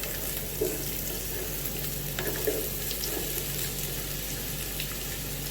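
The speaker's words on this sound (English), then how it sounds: "The onions have to be fried to real golden brown" Chopped onions fry in hot oil for a chicken dum biriyani, a steady dense sizzle close up that carries on without a break, with a few faint stirring scrapes and clinks over it.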